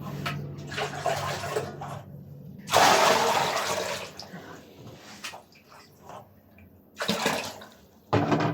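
Running water gushes in several loud bursts separated by quieter pauses, like a tap turned on and off into a basin.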